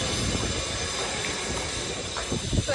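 A train at a railway station gives a steady, close low rumble of rolling stock, with a few faint clattering knocks toward the end.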